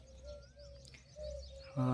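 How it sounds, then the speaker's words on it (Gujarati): Birds chirp and a pigeon coos at a quiet village burial ground, soft and fairly near, with a brief louder call near the end. "પક્ષીઓનો કલરવ છે"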